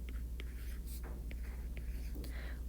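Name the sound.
writing by hand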